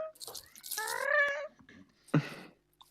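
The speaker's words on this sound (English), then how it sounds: "somehow you hear some howling sound of a cat" A cat howls with a rising, wavering yowl lasting about a second, followed by a shorter harsh cry, close and fairly loud with brief rustling in between.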